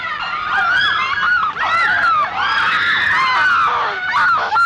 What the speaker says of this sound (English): All the ladies run screaming except Duessa, who stands her ground